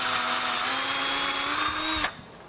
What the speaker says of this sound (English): You want to drill down about halfway through the wood.